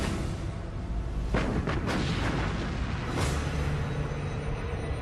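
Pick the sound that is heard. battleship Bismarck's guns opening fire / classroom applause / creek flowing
battleship Bismarck's guns opening fire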